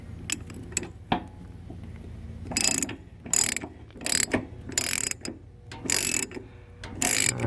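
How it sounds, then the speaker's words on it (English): A ratchet wrench tightens a water fitting in a series of short, close, rhythmic clicking bursts, about eight strokes spaced roughly evenly with brief pauses between them. "I already have my wrench switched over for tightening."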